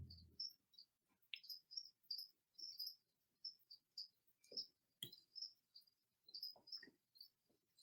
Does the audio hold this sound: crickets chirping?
yes